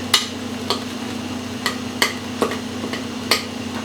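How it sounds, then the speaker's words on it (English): A spoon back mashes feta and cream cheese into tomatoes in a pan, making soft, irregular taps and clicks over a steady low hum, close by with no talk. "take the back of a spoon and try to mash our cheeses up a little bit and stir them in with our tomatoes"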